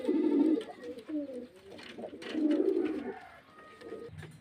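Pigeons at a pigeon seller's, several birds cooing in low, throaty, repeated rolling calls, close and clear, one call following another with brief pauses.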